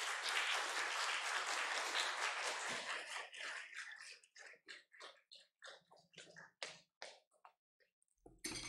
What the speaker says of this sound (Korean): 우리 장로님 나오실 때 우리 힘찬 환영의 박수 하겠습니다.